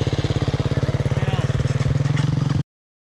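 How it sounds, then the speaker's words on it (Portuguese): A motorcycle engine runs with a fast, pulsing putter, loud and close, holding a steady rhythm for a couple of seconds before cutting off abruptly. "O cara voltou com a porra da moto. Pilotando ela."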